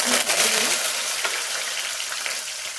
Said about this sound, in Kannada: ಕಡಲೆಬೇಳೆ ಮತ್ತು ಬೇಳೆನ ಒಂದು ಸ್ವಲ್ಪ ಎಣ್ಣೆಯಲ್ಲಿ ಫ್ರೈ ಮಾಡ್ಕೊಳ್ಳಿ